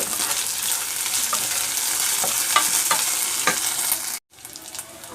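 Onions with ginger garlic paste frying in a pan, a close steady sizzle broken by sharp spatula scrapes and taps, then a sudden brief dropout before the frying resumes.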